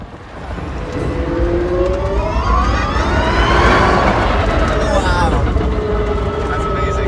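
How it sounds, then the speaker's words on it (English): An Aspark Owl electric hypercar accelerates hard, its electric motors giving a loud rising and falling whine that sweeps up in pitch over steady road and wind roar, sustained for several seconds. "That's the actual mechanical sound of having electric motors around the car."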